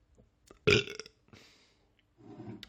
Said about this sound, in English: If I burp, it's a sign of a good beer